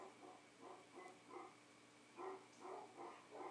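Dogs indoors reacting to something outside, giving a rapid run of faint muffled barks in two bursts of about four each, distant and quiet, with no talking.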